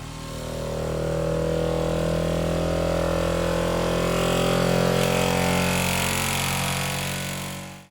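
QIDI Q2 3D printer running input shaping calibration, giving a loud, continuous droning buzz with steady tonal bands that holds for several seconds before cutting off abruptly; no talking.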